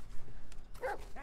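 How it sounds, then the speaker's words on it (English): A dog in the Blair Witch horror video game, set in dark woods, lets out a single soft, brief bark or yip against quiet ambience. "And so you're in the woods with your dog Bullet, looking for this lost boy"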